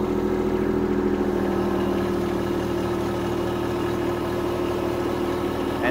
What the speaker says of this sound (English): if I try and back out in two-wheel drive, see, it's just not pulling out and it's digging deep into the mud